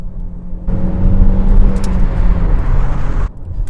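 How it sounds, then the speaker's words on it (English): A 2017 Vauxhall/Opel Insignia Grand Sport engine growls loudly up close, with a rough low rumble that builds and holds for a few seconds before cutting off. "The engine's got quite a nice little growl to it."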